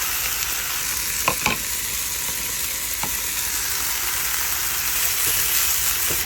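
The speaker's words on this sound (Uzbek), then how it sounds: "Guruchimiz isiguncha kimchilarni yaxshilab qovurib olamiz." Kimchi fries in a hot pan with a steady, loud sizzle, broken by a few sharp clicks of stirring, close by with no talking.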